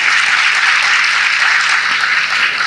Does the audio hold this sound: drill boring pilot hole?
no